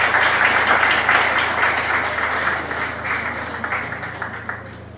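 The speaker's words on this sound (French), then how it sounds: "je vous demande de les applaudir chaudement" An audience at a nurses' day celebration applauds warmly, strong clapping that gradually thins into scattered individual claps, over a low steady hum.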